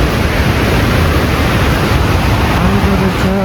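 River water from waterfalls beside a tourist path splashes in a dense, loud and constant rush that fills the whole scene.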